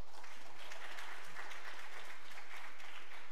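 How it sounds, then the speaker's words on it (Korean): Audience applause fills the room as a dense, even patter of many hands clapping, fairly quiet and distant, sustained without voices on top. "박수 한번 쳐줍시다."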